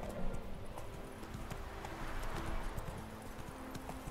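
Horse hooves clip-clopping in The Witcher 3 as a steady trotting rhythm, with game music and ambience underneath.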